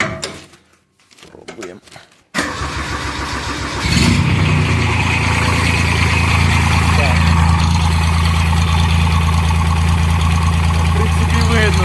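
A HarMa T315 walk-behind tractor's engine catches after a few seconds of quieter handling noise, then runs loud and steady close by with a constant rumbling drone.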